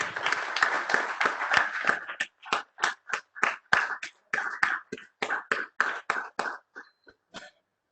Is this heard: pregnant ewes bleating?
no